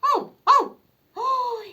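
A toy-like or imitated dog bark comes as two quick, loud yaps followed by a longer drawn-out bark, close and clear. A voice seems to imitate the sound.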